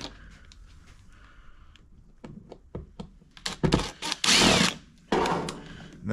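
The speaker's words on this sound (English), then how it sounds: "We've got two Phillips head screws at the bottom here. We'll need to take off in order to get into the access panel." Phillips head screws are backed out of the bottom access panel of a Yamaha EF4500iSE inverter generator: quiet scattered clicks and ratcheting taps, then louder whirring bursts from a driver turning the screws nearby.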